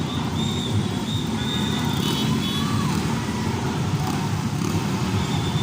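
Traffic stalls along a Manila street as a religious procession carrying a saint's statue passes toward Quiapo. A continuous low rumble of idling and creeping vehicles fills the scene, with faint high horn or whistle tones drifting over it.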